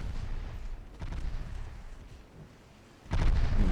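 Naval gunfire hitting destroyers in a video game comes as rumbling booms and distant blasts, continuous low thuds with a heavier, louder impact near the end.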